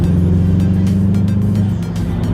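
A Subaru car accelerates in fifth gear with a loud, steady low engine drone and road roar heard from inside the cabin, holding constant throughout the short stretch.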